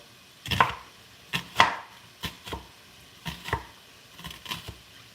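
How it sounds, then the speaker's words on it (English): Knife dicing an onion on a cutting board: about ten sharp, close chops in uneven clusters, each a crisp thud with a short knock, separated by brief quiet gaps and no talk. "now I'm kind of trying to dice an onion here"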